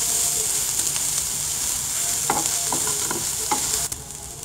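Soya 65 chunks fry in a covered pan after being flipped, giving a steady bright sizzle with scattered clicks of turning and a sharp knock near the end.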